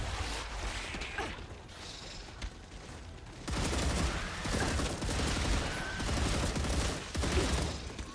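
Dense, rapid gunfire and weapon mechanisms in the sci-fi video game StarRupture, a continuous loud barrage that grows heavier partway through, with no talk over it.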